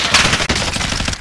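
Rapid automatic gunfire in the video game Warzone, a close, loud burst of rattling shots firing in quick succession throughout a short moment, with no speech.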